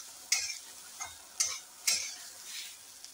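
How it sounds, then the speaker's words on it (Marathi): Freshly grated coconut roasts in a pan. Soft, quiet sizzling is broken by about four distinct stirring scrapes spaced roughly half a second apart, with no talking. "याच्यात खोबरं भाजून घ्यायचं आधी"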